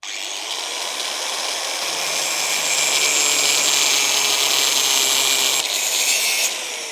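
A small power tool cuts steadily through a part for a homemade battery-powered soldering iron, giving a continuous, close, high-pitched grinding whine that holds for several seconds and then stops.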